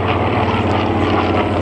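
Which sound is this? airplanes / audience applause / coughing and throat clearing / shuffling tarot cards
airplanes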